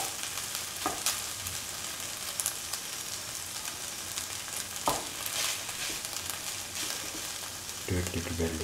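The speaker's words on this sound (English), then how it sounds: "Now put in the rice, 100 grams at a time, and incorporate well with the other masala." Rice stirs into an okra masala in a hot pan, sizzling steadily throughout, with a few sharp scraping stirs and a busier crackle at the end.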